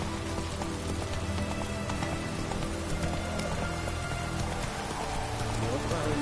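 Roach, the horse in The Witcher 3 on PS4 Pro, gallops with steady hoofbeats amid rain and ambient game sound, a continuous, fairly loud rhythm with speech mixed in.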